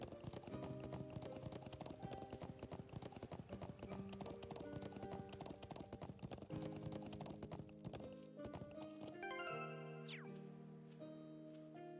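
Rapid, steady clip-clop of horse hooves from a video game set in the highlands, running nearly the whole time at moderate level under layered in-game music, with a brief whinny-like tone near the end.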